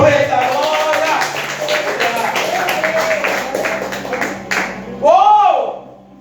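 Congregation in a Portuguese-language church service clapping in praise: rapid, rhythmic hand claps under a loud preacher's voice, with a sharp vocal exclamation near the end.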